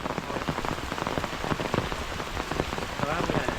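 Torrential Konkan monsoon rain hammers down nearby, a thick continuous patter of drops striking surfaces, swelling slightly toward the end, with no talking.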